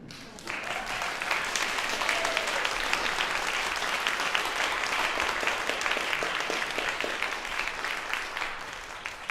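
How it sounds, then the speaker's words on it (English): An audience after an organ recital claps vigorously and steadily, many individual hand claps forming a lively, even roar that continues for several seconds without talk. "If you clap loud enough, you'll get an encore."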